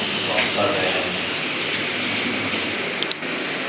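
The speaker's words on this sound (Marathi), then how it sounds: "मकाच्या कणसांचा वाफ काढून राहिले मस्त कुकरमध्ये" A steady, forceful hiss of steam venting under pressure from a pressure cooker steaming corn cobs, continuous and fairly loud for the whole stretch.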